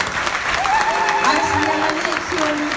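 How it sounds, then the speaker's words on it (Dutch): An indoor audience at an evening event claps for the sound technicians in a sustained burst of applause. Voices and crowd murmur come through underneath. "Geef ze een applaus."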